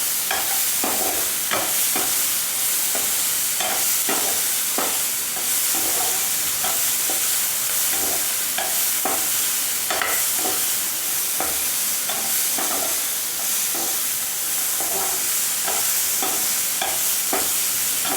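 Vegetables being stirred and sautéed in a pan for white sauce pasta, with a steady sizzle of frying under repeated scraping strokes of the spoon at an even rhythm, close and clear, with no talking.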